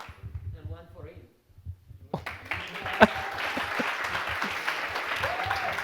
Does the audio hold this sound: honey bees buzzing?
no